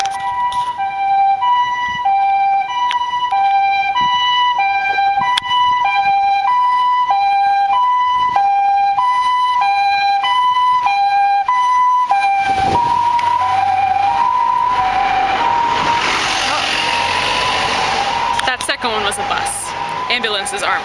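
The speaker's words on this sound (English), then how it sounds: "I never hear ambulances unless I'm trying to make a video." An ambulance siren plays its loud two-tone pattern as it passes along a street in Japan, then gives way to heavier traffic noise, with people talking over it.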